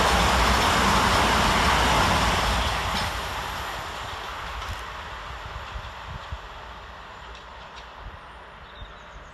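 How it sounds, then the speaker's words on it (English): Class 377 electric trains rush past on the fast line at Salfords station. A loud, close roar of wheels and air fades steadily as the train recedes, leaving faint rattles and clicks. "Next up on the fast line is 377-207 and 377-456, working 1 Foxtrot 10 for London Victoria to"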